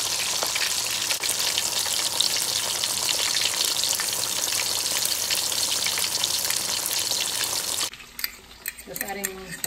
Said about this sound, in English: So I had it frying for 5 minutes on one side, and now we just flipped it.